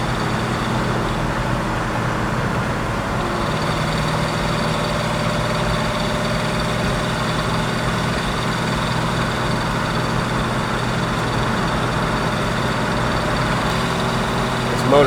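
Steady engine rumble from a TASCA Ford Boss 302 with 390 gears, running at about 2,500 RPM in fourth gear near 60 mph, a constant low drone inside the car, probably with speech mixed in.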